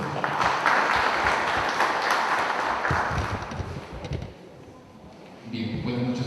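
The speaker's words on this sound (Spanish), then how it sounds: "Recibimos con un fuerte aplauso al ingeniero Martín Roncero Zapuelo." An audience at an evening land-titling talk claps in welcome for an engineer, with dense applause for about four seconds that then tapers off, giving way to a voice and some nearby shuffling.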